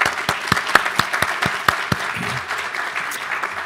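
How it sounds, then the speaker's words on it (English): A small audience gives a short round of applause at a university hall dedication, individual claps standing out crisply in a fairly sparse, uneven patter that tapers off. "I'll give you a round of applause."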